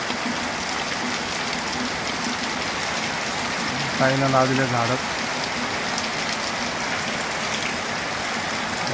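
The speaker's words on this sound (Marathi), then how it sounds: "इकडं खूप जोराचा पाऊस चालू आहे" Heavy rain pours down steadily in a dense, continuous hiss, with a brief burst of voices talking over it midway.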